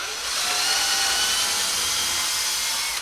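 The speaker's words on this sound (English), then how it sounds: "So let's go ahead and drill a couple of holes." A power drill bores holes into wooden model-railroad benchwork in one loud, continuous high-pitched whir. It stays close and steady throughout and winds down at the end.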